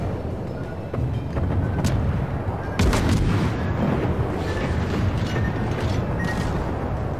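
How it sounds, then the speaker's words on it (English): Explosions and heavy gunfire in World of Warships naval combat, loud booming blasts and sharp cracks over a constant rumbling battle din, with no talk. "Oh man. Torpedoes."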